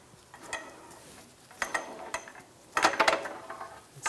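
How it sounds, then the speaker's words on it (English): Quiet mechanical clicks, ratcheting and metallic clanks from a pole jack being lowered beneath a 1999-2006 Chevrolet Silverado 1500, coming in a few separate bursts close by. "Lower the pole jack."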